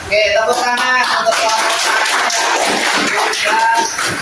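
An audience claps for a presenting group at a university gathering, a steady, dense patter of many hands filling the room with shuffling, while a voice speaks over the clapping.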